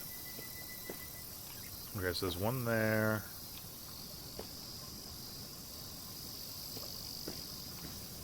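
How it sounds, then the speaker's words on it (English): Cicadas drone steadily in the video game Nostalgic Train, set around Natsugiri Town, a constant high insect buzz running through the whole stretch while someone speaks briefly. "These cicadas are annoying."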